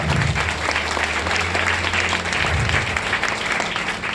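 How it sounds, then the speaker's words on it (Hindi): A crowd at a Mi Lifestyle function gives loud, sustained applause for upline Alpesh Mandle, steady, dense clapping that fills the whole stretch without letup. "मैं चाहता हूं मेरे ग्रेट अपलाइन मिस्टर अल्पेश मांडले सर के लिए जोरदार तालियों से"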